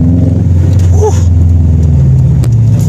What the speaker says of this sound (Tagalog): try muna natin tong boxer engine na to